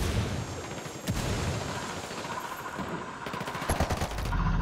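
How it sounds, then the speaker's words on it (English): In the Ghost Recon Wildlands video game, gunfire crackles in rapid bursts and single sharp shots, with heavier thumps from grenade explosions nearby, a dense, continuous firefight at moderate loudness. "They're throwing grenades at me, I'm gonna die."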